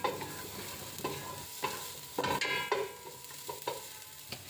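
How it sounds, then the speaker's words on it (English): Chopped garlic and ginger sizzle in a pot, with a soft constant fry broken by several sharp scraping stirs of a spoon, close and fairly quiet, no voices. "In the same pot, saute chopped garlic and ginger."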